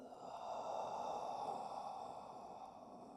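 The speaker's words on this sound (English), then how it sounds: "Exhale through the mouth." A long breath is pushed out through the mouth during yoga breathing. It is a close, soft airy rush that swells and then tapers over a few seconds, with no talking.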